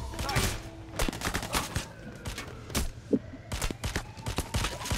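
Gunfire in the heist shooter Payday: The Heist, with rapid cracking bursts and thuds repeating throughout, loud and busy, and a player's voice shouting over it.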